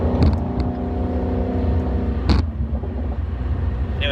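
A Ford Mustang GT350 cruises along with a low, steady rumble of engine and road noise, fairly soft, with a couple of brief faint clicks over it.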